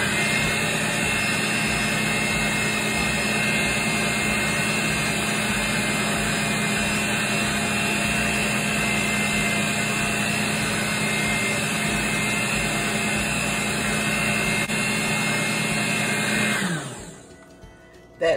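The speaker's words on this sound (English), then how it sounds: "sometimes this cake mixer spins, sometimes it don't" An electric cake mixer whirs steadily through jelly cake batter from a box mix, a close, even, high-pitched motor drone that runs unbroken for a long stretch and then winds down and stops near the end.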